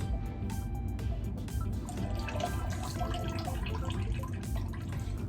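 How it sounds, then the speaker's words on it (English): Juice from an opened can of salmon drains into a sink or bowl with a soft continuous trickle and small scattered drips, faint and close. "Let me pour off some of the juice."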